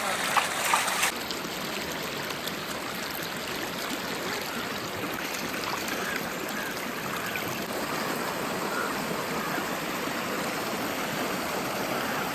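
Steady, unbroken rush of water pouring and splashing for the whole stretch, fairly loud and close, with no voices.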